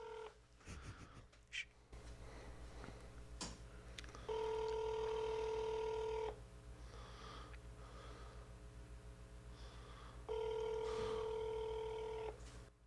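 Two long electronic telephone ring tones sound through a receiver, separated by a pause, with faint breathing and handling noise between them.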